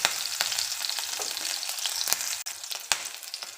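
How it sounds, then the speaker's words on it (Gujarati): Chillies dropped into a spoonful of hot oil sizzle and crackle steadily in a pan while making bhakri pizza, with a dense hiss broken by sharp pops and no talking. "તેલ ગરમ થઈ ગયું છે તો એમાં એડ કરીશું મરચાં"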